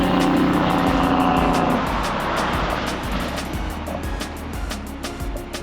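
A truck's engine brake on an Australian road roars with a loud, rapid staccato drone that slowly fades as it moves away, set against wind and road noise in a camping setting.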